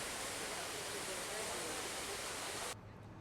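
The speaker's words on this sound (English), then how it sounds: "The White Swan is the definition of luxury, including this waterfall and Chinese garden right in the lobby." An indoor waterfall in the lobby of the White Swan luxury hotel in Guangzhou, beside a Chinese garden, makes a loud, steady broadband rush that cuts off abruptly near the end, leaving a quieter room tone.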